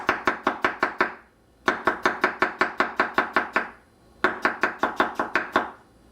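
Knife chopping vegetables into thin strips on a cutting board, three bursts of rapid, evenly spaced sharp chops with short pauses between, close and clear with no talking.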